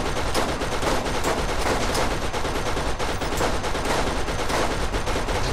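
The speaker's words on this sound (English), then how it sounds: "this turret sucks" A turret gun in Borderlands firing a continuous, loud, rapid stream of shots that fills the whole stretch with no pauses.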